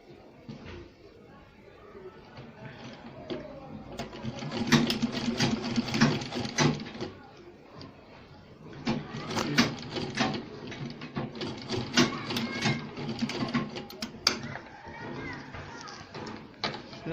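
A sewing machine stitches lace onto an Ankara fabric gladiator sandal, its rapid mechanical whirring coming in two longer bursts with quieter gaps between them, close and fairly loud.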